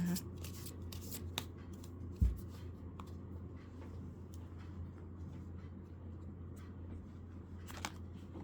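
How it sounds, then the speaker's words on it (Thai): Gypsy fortune-telling cards are shuffled and cut close by in a quiet room, giving soft papery riffles and light taps with one sharper knock near the middle. "ขอเป็นตัวแทนตับไพ่ตัดไพ่ให้คนเกิดวันพฤหัสนะคะ"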